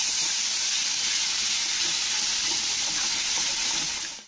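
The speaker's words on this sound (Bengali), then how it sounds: "তো এবারে দিয়ে মশলাটাকে কষে নিতে হবে" A spice paste of turmeric and chili powder fries in a pan, giving a loud, steady sizzle and hiss that holds evenly throughout, close up and without talk.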